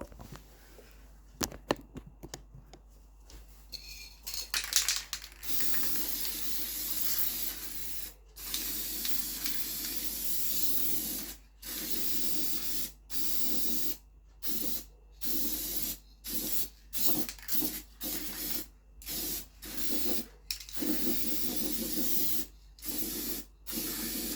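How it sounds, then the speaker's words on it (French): Black spray paint hissing from an aerosol can in short repeated bursts with brief pauses, close and steady, while a car is being painted. "je finirai la bombe de noir par-dessus"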